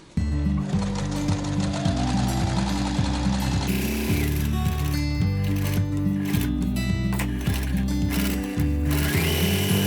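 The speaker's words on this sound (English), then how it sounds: "So now I can sew around this." A sewing machine stitches around the pocket of a decorative fabric shoulder bag, running in steady rapid bursts with brief pauses, loud and close throughout.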